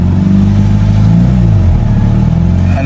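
A 1987 Toyota Starlet EP71 with a 1.3 engine and manual gearbox runs steadily at close range, its exhaust giving a smooth, even low rumble with a slight swell in pitch midway and no talking.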